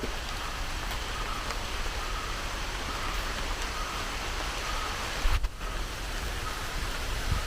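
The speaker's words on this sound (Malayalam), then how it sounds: "മഴ മഴ മഴ മഴ മഴ" Steady rain hisses evenly throughout, a dense wash of drops with one brief bump partway through and no voices.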